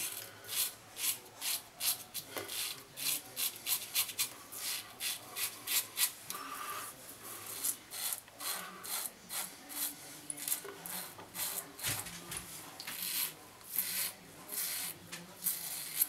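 Close, rhythmic rasping strokes of a razor dragging through stubble, repeating quickly and steadily with no talking.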